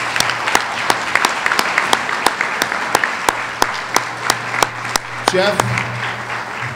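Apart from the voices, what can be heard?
round of applause for Jeff at sports banquet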